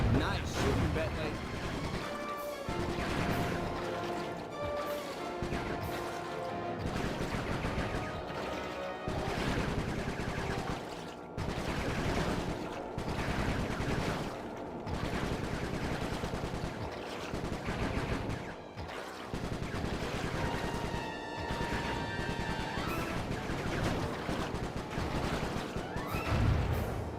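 Rapid gunfire in the video game Sly 3, dense bursts of shots and impacts running continuously with game music and voices talking over the battle.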